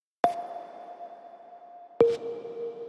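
A synth bell made from a sine wave pushed through OTT compression strikes twice, each a sharp metallic ping that rings on in a clean sustained tone, the second hit lower, heard alone and fairly quiet.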